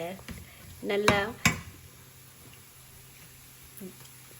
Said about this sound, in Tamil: இப்போ இந்த லீக்ஸ், கேரட், பீன்ஸ், முட்டை, எங்களோட மட்டன், வெங்காயம் எல்லாம் அப்படியே வதங்கி கொண்டு வரக்குள்ள